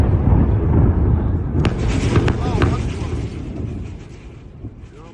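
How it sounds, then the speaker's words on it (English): An explosion in war footage from the conflict in southern Lebanon: a loud, rumbling blast with sharp crackling bursts, then a long fading roar, heard alone. "We also got to see another explosion here in this clip."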